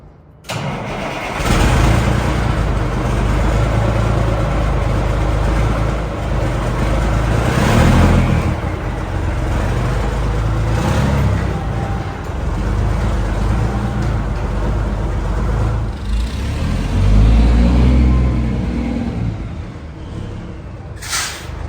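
1986 L9000 dump truck with a straight-piped L10 Cummins diesel cranks over and fires, then idles with a loud, rough rumble and occasional revs, bursts of throttle surging in the middle and near the end.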